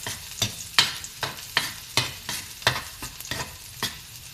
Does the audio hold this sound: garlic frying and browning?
yes